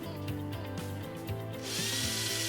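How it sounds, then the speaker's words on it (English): A power drill bores holes through the wooden bottom into the sides of a birdhouse, quietly at first with faint clicks, then whirring up into a steady, louder grind partway through. "drill holes through the bottom into the sides of the bird box"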